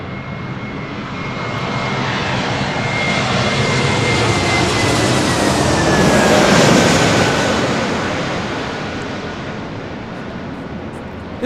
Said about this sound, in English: This is Delta Airlines 1358 coming in from Seattle on an A321neo.